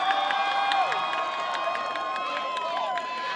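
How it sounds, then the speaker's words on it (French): An audience at a beauty pageant claps and cheers in a dense, continuous wash of crowd noise. Scattered shouts rise above the applause, and voices carry through the whole stretch. "applaudissez-les surtout"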